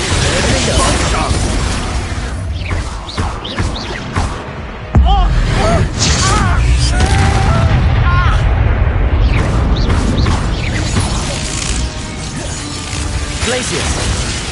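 Expulso explosion spell in the Hogwarts Legacy video game, a dense, loud din of magical blasts, crashes and clattering effects, with a sharp heavy impact about a third of the way in, continuing under battle noise.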